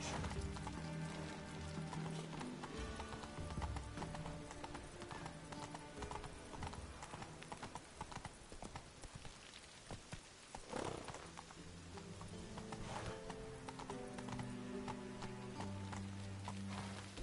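Hooves gallop steadily in The Witcher 3, a continuous rapid clip-clop that stays close and loud throughout, with in-game ambience and occasional rustling underneath and no talking.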